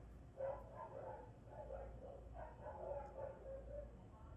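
Dogs bark repeatedly in a faint, muffled string of yaps that comes in bursts, heard from some distance.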